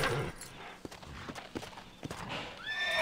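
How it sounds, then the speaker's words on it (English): Horse hooves clip-clop in Red Dead Redemption, a Wild West video game on PC, and the horse whinnies near the end, all over a steady bed of game ambience. "Let me get my horse back and get the freak out of here."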